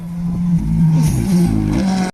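A Citroën rally car at the Rally du Condroz 2021 roars past loudly and close, the engine note rising and shifting through gears over two seconds before cutting off sharply.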